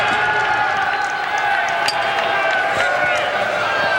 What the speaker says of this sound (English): The crowd roars as he gets it.